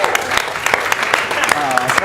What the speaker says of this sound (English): give a round of applause to our top 3 players so far